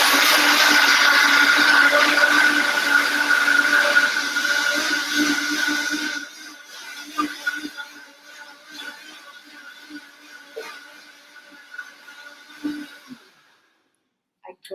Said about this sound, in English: Put on my Vitamix.